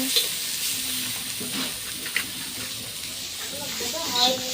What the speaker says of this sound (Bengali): কি রান্না? করলা ভাজা।